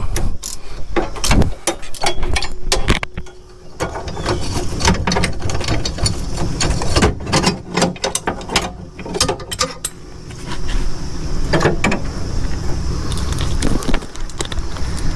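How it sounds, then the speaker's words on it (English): A wrench works on the bolt holding a fan, sprocket and guard, giving close, irregular bursts of metallic ratcheting clicks and clanks that continue throughout without speech. "You can see that I got a wrench on the bolt that holds the sprocket, the guard, and the fan on."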